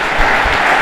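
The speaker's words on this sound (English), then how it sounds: "Can we give them a very good round of applause, please?" At an academy's official launch ceremony, a crowd's loud, dense applause makes an even wash with no pauses, heard in a short burst.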